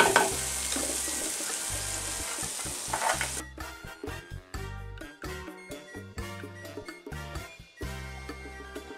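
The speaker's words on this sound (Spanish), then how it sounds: "Y dejamos que se fría bien." Tomato frying in a pan for a Spanish bean stew sizzles steadily and loudly close up, broken by the scrape and clatter of stirring, with no talk.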